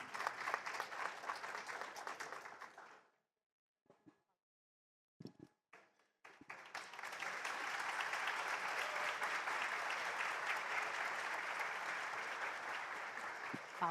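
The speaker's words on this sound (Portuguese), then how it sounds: "Palmas para todo lado" An audience at a talk on the standing forest and bioeconomy breaks into applause that fades to near silence with a few scattered claps, then rises again into sustained, fairly distant clapping.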